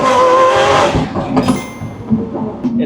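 Lamborghini Aventador SVJ V12 engine revving hard, a loud close roar that swells over the first second, then eases into a lower, rougher drone with brief bursts.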